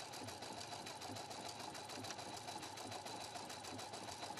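Husqvarna Viking Platinum sewing machine stitching a seam overcast stitch on a fabric edge, a fast, even, rapid clatter running steadily throughout, faint and close, without voices.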